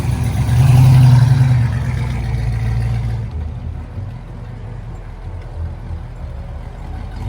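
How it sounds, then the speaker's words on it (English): Pontiac Trans Am rolling out at a classic car and bike meet, its engine rumbling loud and close with a deep low drone, then easing off after about three seconds to a quieter idle-like hum. "We've got that Trans Am rolling out."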